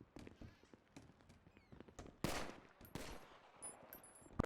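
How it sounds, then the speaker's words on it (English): A gun fired at a wall in a video game police academy session lets off a few sharp shots with one loud burst in the middle, each quick and punchy against a quiet background. "now shoot the wall like twice"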